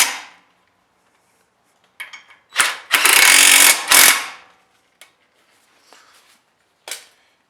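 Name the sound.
ratchet tightening brake caliper bracket bolts on a 2012 Mazda 3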